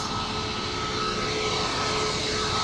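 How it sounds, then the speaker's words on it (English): A Ryanair Boeing 737 airliner approaches at London Luton Airport, its steady, loud jet roar filling the air without letup and no voices heard. "We've got a Ryanair, a Boeing 737 coming up behind us."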